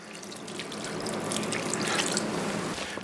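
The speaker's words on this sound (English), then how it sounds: "So I'm gonna add 16 ounces of water." Water streams steadily into a batch of ground meat for bratwurst, a continuous close splashing pour with no voices over it.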